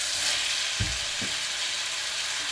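Lamb keema mince sizzles steadily in a hot pan, a continuous bright frying hiss with a couple of soft stirring scrapes partway through.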